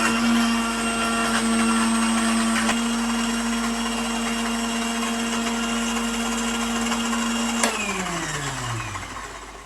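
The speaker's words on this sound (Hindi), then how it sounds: "इसको भी हम अच्छे से ग्राइंड कर लेंगे और इसका पेस्ट तैयार कर लेंगे" An electric kitchen blender grinds red chilli sauce with lemon juice into a paste, running at a loud, steady high whine for several seconds before switching off and winding down, with no talk.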